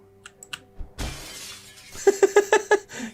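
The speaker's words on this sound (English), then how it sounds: "Smashing that window" A window is smashed in the survival video game Project Zomboid, a sudden loud glass shatter followed by a quick series of tinkling shards falling, close and clear with no talk.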